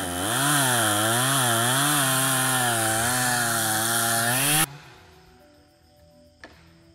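A chainsaw roars loud and close while felling a large tree in the Amazon, its pitch rising and falling as it cuts, then stopping abruptly, leaving quiet surroundings with a faint knock.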